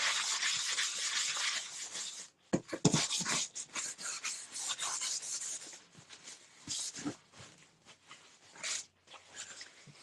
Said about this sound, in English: I'm going to give it to a really light sanding.